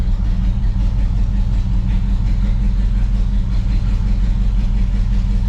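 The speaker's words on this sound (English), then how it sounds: "We are, however, idling." A 1970 Pontiac Grand Prix with a four-speed idles steadily, its engine giving a deep, even, throbbing rumble close by with no revving.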